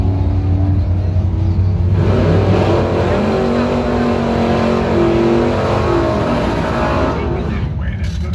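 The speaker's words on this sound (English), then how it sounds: "Chad Swanger, the 70 Dodge Challenger" Drag racing at a Bowtie event, with a 1970 Dodge Challenger running: a loud, sustained engine roar and whine that swells and holds steady near the microphone, with an announcer's voice partly heard under the noise.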